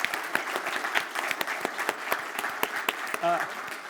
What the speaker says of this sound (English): So just can I just get a round of applause to Christy and the work she's done on that